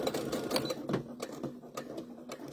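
A sewing machine back-stitches across the seam of a fabric baby bib, giving short rapid bursts of mechanical stitching with brief pauses between them, close and moderately loud, with no talking.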